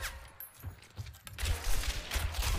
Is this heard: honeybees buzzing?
no